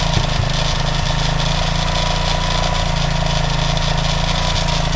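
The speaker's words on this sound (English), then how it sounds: "still a good day getting this engine running." A Honda CTX200 frame fitted with a swapped-in 230 engine idles steadily, a loud, close, even mechanical rumble with a constant low throb and no revving, running off a car battery on a rainy, wet day.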